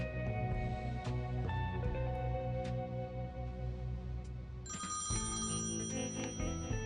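A telephone rings in the point-and-click adventure game Thimbleweed Park, sounding as a steady electronic trill that repeats over a sustained background music bed and then shifts to a higher, brighter tone.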